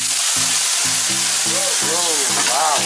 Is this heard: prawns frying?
yes